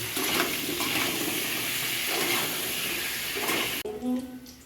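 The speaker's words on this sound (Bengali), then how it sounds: "আলুটা হলুদ লবণ দিয়ে একটু ভেজে নিচ্ছি" Potatoes with turmeric and salt sizzle and crackle in a pan, loud and steady, then the sizzle cuts off abruptly near the end, leaving quieter clatter.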